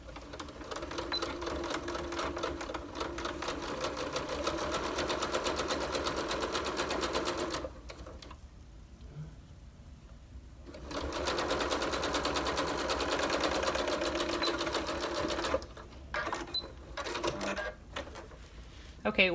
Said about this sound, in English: I'm just going to put this under my presser foot, and we're going to back stitch at the beginning and the end.